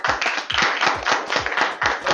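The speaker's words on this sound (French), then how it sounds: "Tonka Yeo, on applaudit également." Live audience at a French-language Toastmasters debate clapping steadily in repeated bursts, close and fairly loud, with no talking.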